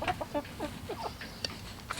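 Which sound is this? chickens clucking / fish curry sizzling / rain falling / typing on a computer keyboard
chickens clucking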